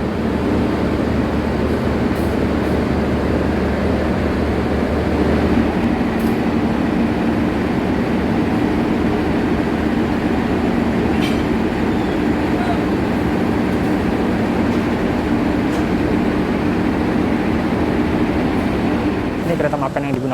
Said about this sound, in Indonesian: Lokomotif Dinas Kereta Api Gumarang pada malam hari ini adalah CC 206